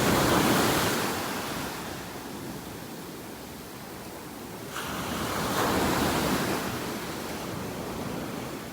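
Waves break steadily on a beach in North Naples, Florida, a broad continuous wash of surf that swells louder at the start and again near the end, with some wind noise and no voices.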